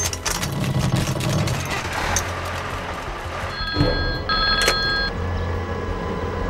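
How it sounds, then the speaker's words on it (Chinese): A telephone bell rings in short bursts at a military post, heard loud over a continuous engine rumble and background noise, with no speech. "中佐，山木少佐请您听电话。"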